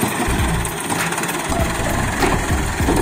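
A tractor engine runs steadily on a farm where sugarcane machinery is being set up, a loud close rumbling idle with continuous vibration and no talk.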